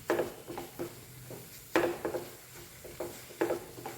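Jaggery and coconut are stirred into a jackfruit mixture in a pan, giving close, rhythmic scraping and thudding strokes of a spoon roughly every half second.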